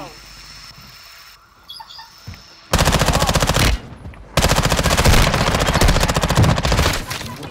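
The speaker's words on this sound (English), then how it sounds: "Look at Natalie, I shoot that guy" Rapid automatic gunfire in the video game Call of Duty Warzone rattles out in loud, dense sustained bursts after a quieter start with a few faint clicks, close and dominant, with a brief gap between volleys.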